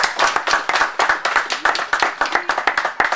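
A small audience at an academic debate on getting university jobs in Denmark claps in a sparse, uneven rhythm, with individual hand claps clearly distinguishable and close by.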